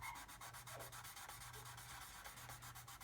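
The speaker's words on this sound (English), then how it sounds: "Just keep sanding until the pencil disappears" Steady rhythmic sanding strokes on a 1/32 scale HK Models Lancaster plastic model panel, a rough back-and-forth rasp repeating quickly and evenly up close, no voices.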